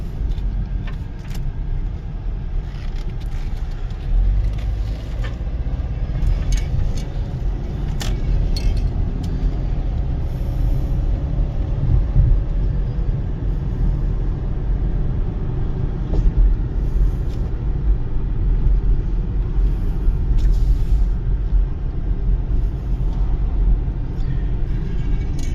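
A 2009 Chevy Cobalt LT four-door drives along with a low, smooth engine hum and steady road rumble inside the cabin, with faint rattles and no talking.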